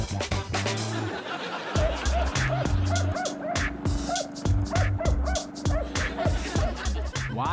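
A dog barking at a lawn mower, repeated sharp barks and yips in an uneven rhythm over the steady low hum of the running mower, close and loud, with some laughter mixed in.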